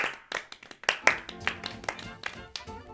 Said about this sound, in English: I'm going to go for a slow clap.